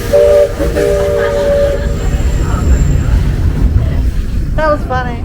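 Steam whistles from a boat and a train at Magic Kingdom sounding back and forth, a long sustained tone near the start and short warbling blasts at the end, loud over crowd and rumble, with voices.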